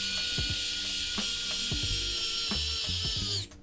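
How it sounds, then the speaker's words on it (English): A small electric screwdriver driving screws into a 4K cinewhoop camera mount, a steady high whine close up with a series of clicking, ratcheting knocks before it stops. "So now we can screw these into the camera."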